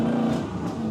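Replica Lamborghini with a swapped-in LS V8 driving and accelerating, steady loud engine drone with a strong low hum that holds throughout, no talk.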